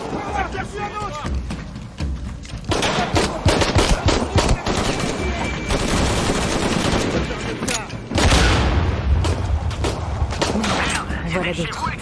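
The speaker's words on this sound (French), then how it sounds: "En voilà d'autres. Explosion!" Bursts of automatic gunfire and booming explosions in the Shadow of the Tomb Raider video game, dense rapid volleys and heavy blasts filling the whole stretch, loud and close, with game voices talking among them.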